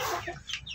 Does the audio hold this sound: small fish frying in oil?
no